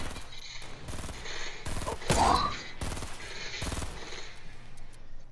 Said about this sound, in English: Who's shooting at y'all?